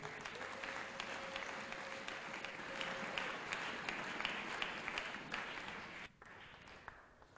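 A church congregation applauds together after a prayer, a sustained patter of clapping that holds at moderate loudness and then drops off sharply near the end, with a faint voice underneath.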